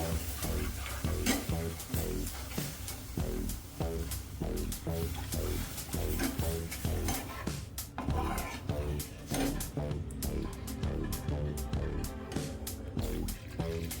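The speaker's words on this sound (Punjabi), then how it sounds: "ਦੁੱਧ ਅਸੀਂ ਥੋੜਾ ਥੋੜਾ ਪਾਵਾਂਗੇ ਨਾਲ ਨਾਲ ਅਸੀਂ ਇਹਨੂੰ ਮਿਕਸ ਕਰਦੇ ਜਾਵਾਂਗੇ" Milk is added a little at a time to besan in a pot while it is stirred, giving a rhythmic scraping and swishing that runs under a speaking voice.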